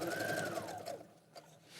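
A sewing machine stitches fabric in a quick mechanical whir with a rising and falling motor whine, close and fairly loud, then pauses briefly before faint clicks.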